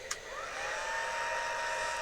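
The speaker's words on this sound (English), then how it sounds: "I'll just give this a blast with the hairdryer again" A hair dryer blows steadily and close for the whole stretch, drying freshly painted miniature layers, with a brief click near the start as it switches on.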